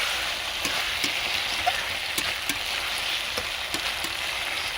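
Lemon chicken sautés steadily in a pan, a continuous close sizzle and fry with a few soft stirring knocks scattered through, no voices.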